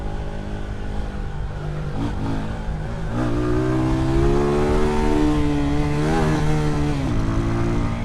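A motorcycle rides along a road near Annotto Bay, St Mary, its engine droning loudly and steadily, rising and falling with shifts in speed, close to the rider, with no talking.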